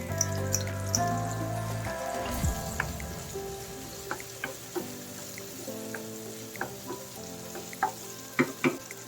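Tomato and black pepper fry in a pan, a steady close sizzle with occasional stirring clicks and taps, no talking.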